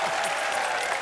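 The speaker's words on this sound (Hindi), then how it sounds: "चलिए तालियां।" A brief burst of studio audience applause on The Kapil Sharma Show, dense steady clapping from a crowd over one second.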